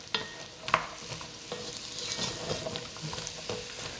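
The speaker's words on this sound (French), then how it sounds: "on va le faire revenir comme ça, on va dire à peu près 5-6 minutes sur feu moyen" Parsnips sautéing in a pan over medium heat, a steady soft sizzle with occasional clacks and scrapes of stirring, close and moderately quiet, no voices.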